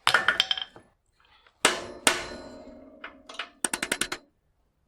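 A bigger hammer strikes the cotter-pin bottom bracket ring of a Union bicycle, giving loud ringing metallic blows with lingering resonance, a few spaced single hits followed by a quick cluster of taps.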